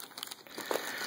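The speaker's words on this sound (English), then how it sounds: "This is the plastic bag it was in where I bought it." A plastic bag from a gun store crinkles close up during the unboxing of a Heritage Rough Rider .22 revolver, a soft, continuous crackling rustle with no talk.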